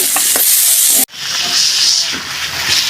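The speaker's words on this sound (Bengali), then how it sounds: "এবারে আমি টমেটোগুলো দিয়ে ভালো করে আরও ভাজবো" Potatoes and tomatoes fry in a pan for a vegetarian ghugni, giving a loud, close, steady sizzle and hiss. A brief cut breaks the sound, then the frying resumes with some stirring scrapes.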